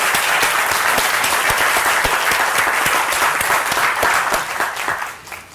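An audience at a 2010 scholarship awards ceremony breaks into sustained, dense applause, with many hands clapping steadily before the sound tapers off at the end.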